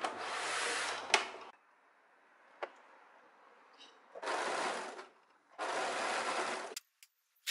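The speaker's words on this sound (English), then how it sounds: "now we're just gonna overlock what we have sewn and pressed open before" An overlocker stitches a seam on a blouse in three loud, fast-whirring bursts separated by quiet pauses, with a few sharp clicks and taps between runs.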